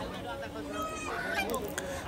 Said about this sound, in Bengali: এই যে প্রচুর পরিমাণে হাঁস